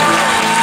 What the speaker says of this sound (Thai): ขอให้ปรบมือให้ 2-3 ทีครับ